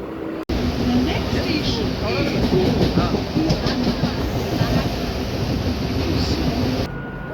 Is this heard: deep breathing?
no